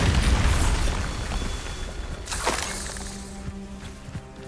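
A Bombarda spell detonates in Hogwarts Legacy, opening with a heavy low boom and a rumbling blast that fades into a softer crackle and a sharp pop partway through.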